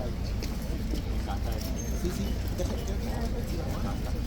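Hooves of Blues and Royals cavalry horses clip-clop on pavement at Horse Guards in London, a steady rhythmic clatter amid busy outdoor bustle and people talking.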